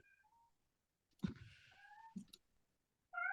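A pet cat scratches at a door in a couple of quick, scraping bursts, with faint, thin meow-like cries between them; quiet and close, with no talking.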